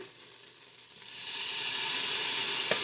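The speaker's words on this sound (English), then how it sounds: "So now I'm going to add some diced minced garlic to my mixture." Minced garlic hits a hot pot of chicken soup stock and a loud, close sizzle erupts after a quiet second, then holds as a steady bright hiss until the end.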